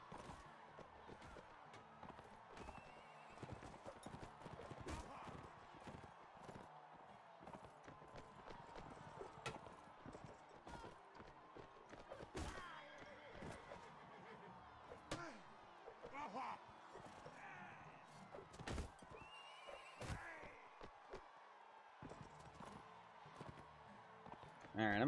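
Horse hooves clip-clop at a gallop in the medieval combat game Mount and Blade: Warband during a tournament, a busy run of quick thuds and clatter under someone talking.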